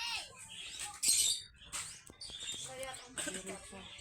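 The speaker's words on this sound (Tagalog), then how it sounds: "Mga ibon din dari, oh." Birds chirp outdoors at the Chocolate Hills in Bohol, a scatter of bright, short twittering calls near and far over light rustling, with people murmuring faintly in the background.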